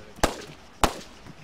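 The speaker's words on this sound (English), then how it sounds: "he's shooting up in the air" Two sharp gunshots fired into the air in the video game Arma 3, spaced about half a second apart, each a loud crack with a short decay over a faint background.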